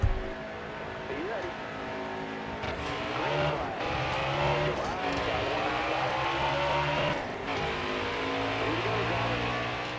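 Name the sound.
race car driving in video game NASCAR Heat 4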